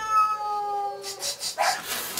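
A kitten or cat gives a single drawn-out, wavering meow, fairly close, followed by scattered soft rustling and faint noises.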